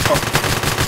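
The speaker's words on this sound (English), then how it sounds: "Oh my god, I'm getting shot!" Rapid gunfire from the heist game One Armed Robber, a dense continuous burst of shots filling the clip with no gaps.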